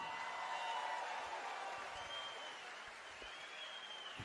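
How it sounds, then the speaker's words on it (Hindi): A concert audience claps for the musicians in a sustained, fairly even round of applause that gradually tapers, with faint voices mixed into the crowd noise. "हमारे म्यूजिशियन भाइयों के लिए जरा जोरदार तालियां हो जाए"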